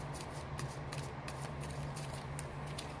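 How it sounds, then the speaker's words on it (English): A 78-card tarot deck is shuffled by hand, a soft continuous riffling and rustle of card stock with quick flicks repeating through the few seconds, close and quiet, with no voices. "I shuffle until they tell me to stop shuffling"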